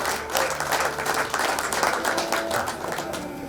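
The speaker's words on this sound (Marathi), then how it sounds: "जोरात टाळ्या" Loud, steady applause from an audience at a staff gathering and award ceremony of the Bhiwandi bus depot, with dense clapping sustained throughout.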